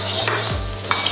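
Sliced ginger dropped into hot oil in a wok for a dog-style duck dish, giving a brief steady sizzle with a soft scrape of a spatula partway through.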